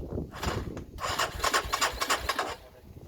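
Suzuki VX 250 Vixen barn-find motorcycle engine cranking over without firing, a rough rhythmic churning whir for a few seconds, close by.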